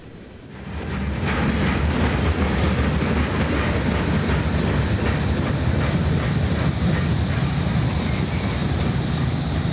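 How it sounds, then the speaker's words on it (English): A westbound freight train leaving a rail yard rumbles past close by, a steady heavy roar of wheels and rail noise building quickly and holding, with some wind buffeting. "Here we see another westbound freight train leaving the yard after getting a new crew."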